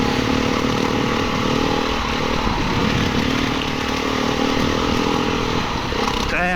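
A 2020 Beta 390 RR enduro motorcycle accelerates hard, its engine roaring loud and close with a raspy, shifting growl that holds throughout.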